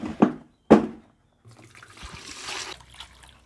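Roughly four litres of water pour into a bucket in a steady rushing stream that lasts about a second, after two sharp knocks.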